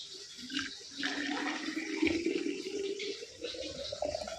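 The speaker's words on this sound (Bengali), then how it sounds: "তো এটা ধুয়ে নিলাম" Running water splashes as an item is washed at a kitchen tap, a close, uneven rushing with a few knocks and clinks.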